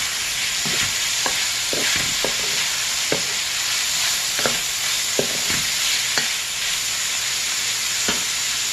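Seafood fried rice sizzles loudly in a hot pan, a constant bright frying hiss broken by repeated scraping strokes of a spatula stirring the rice, close and continuous with no talk.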